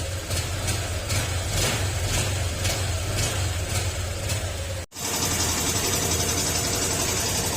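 Honda Click 125 v3 scooter with heavy oil consumption idling just after starting, a steady low engine hum with faint rhythmic ticking, briefly cut before resuming at a rougher, brighter tone.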